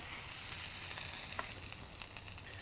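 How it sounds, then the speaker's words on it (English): Burger buns toasting on a hot flat top griddle give a steady, soft sizzle and crackle with a few small pops, no voices. "let's get these buns on the flat top here to toast up"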